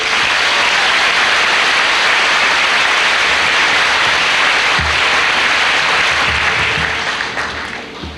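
A high school graduation crowd in Ste. Genevieve, Missouri, breaks into sustained, dense applause, loud and steady throughout before tapering off near the end.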